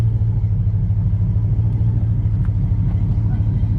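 Bagged Silverado SS clone truck idling and rumbling steadily nearby, a low continuous engine drone with no clear pull-away.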